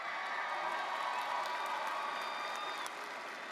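Graduating pharmacy candidates at a spring commencement ceremony cheer and applaud as a large crowd, a steady wash of clapping and cheering heard from a distance in a big hall.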